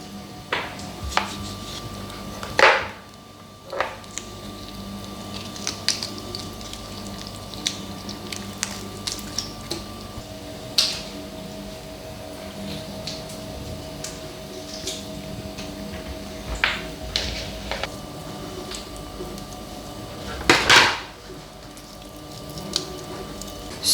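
Plums being cleaned and cut for preserves in a rustic outdoor kitchen give scattered light knocks, scrapes and clinks of a knife and dish, with a couple of louder clatters against quiet steady background hum.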